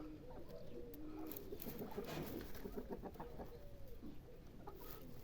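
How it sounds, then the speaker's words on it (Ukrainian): Soft, low cooing of a female pigeon repeats in a bird enclosure, with faint clucks and other bird sounds around it. "Це голубка, але ну, вона трошки така як дикувата"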